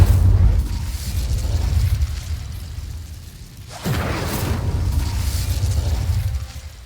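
An Incendio fire spell is cast in Hogwarts Legacy, heard as a low whooshing burst that flares suddenly midway and holds briefly over a rumbling game background.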